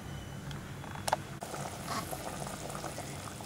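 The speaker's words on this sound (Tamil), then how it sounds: "நல்லா குழம்பு கொதிச்சிடுச்சு." Fish curry made with rohu simmering in a pot, a steady soft bubbling hiss with faint pops and a brief clink partway through, close and alone without talk.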